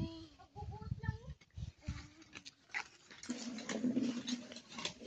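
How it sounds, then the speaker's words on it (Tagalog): A visiting dog at a house makes faint, soft whines and short yelping sounds, followed by quieter scuffling and mixed background noise, with low voices nearby. "Itong visit na aso na to."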